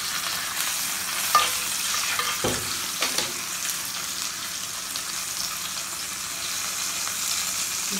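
Lamb shanks fry in a pan with an even, continuous sizzle while being stirred. A few scraping knocks stand out near the start.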